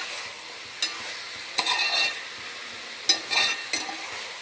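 Chicken curry masala stirred while frying in a pan: soft constant sizzle broken by several scraping stirs of a spoon against the pan, close by, with no talk.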